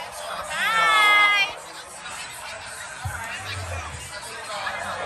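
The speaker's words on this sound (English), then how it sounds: "This is our crowd." A St. Patrick's Day pub crowd fills the room with steady overlapping chatter and babble, a brief louder surge of voices early on, continuing as a dense background hubbub.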